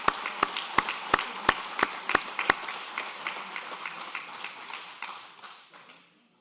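An audience applauds at an awards ceremony, opening with a few sharp, evenly spaced claps before settling into steady, moderately close clapping that gradually thins and fades away over several seconds, with no talking.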